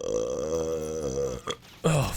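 A long, loud, tonal human burp rumbles for over a second, followed by a brief gulp and a short grunting exhale; no words are spoken.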